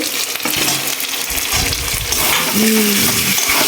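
Mutton and potatoes fry in a pan for mutton curry, a steady broadband sizzle running the whole time with occasional stirring scrapes, while faint voices and a brief tonal hum sit underneath near the end.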